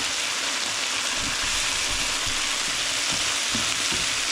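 Shiitake mushrooms fry in a pan for shrimp pad thai, giving a steady, close, loud sizzle with scattered crackles and stirring clatters throughout.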